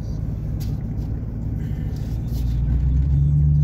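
A vehicle's exhaust runs through a Cherry Bomb 8-inch glass pack muffler, giving a steady, deep, throaty drone that swells slightly toward the end.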